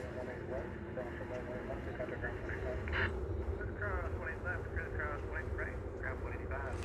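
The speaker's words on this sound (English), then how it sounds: "Comes an Airbus A319" An Airbus A319 airliner passes at DFW Airport, a steady low engine rumble with a brief louder swell, heard under continuous talk.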